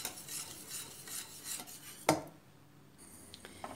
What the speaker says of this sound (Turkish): ilk şu üç malzemeyi bir güzel böyle karıştıracağız